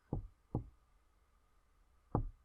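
Faint knocking on glass in the video game Petscop: three short, hollow raps, two close together and a third after a long pause, alone over a quiet hum.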